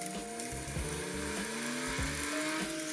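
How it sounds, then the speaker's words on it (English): A Carrera Hybrid Porsche slot car, its small electric motor whirring steadily with a rising pitch and rattling mechanical clicks, close and continuous for a few seconds. "so I can't wait to see if the Porsche sounds like this, which it does"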